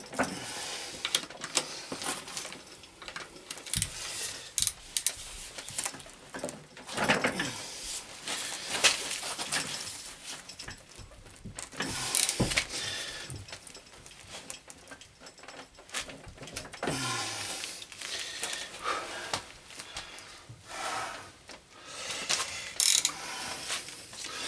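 Ratchet loosening cylinder head bolts on a car engine, sharp rapid clicking bursts in irregular runs with short pauses between strokes, close and fairly loud.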